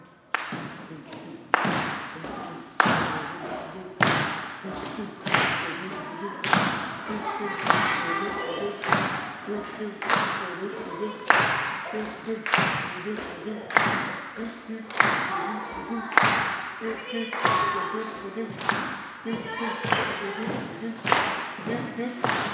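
An audience at a fall talent show claps and stomps a steady, even beat for a dancer: loud, regular thuds and claps repeating about once a second throughout, with faint voices between them.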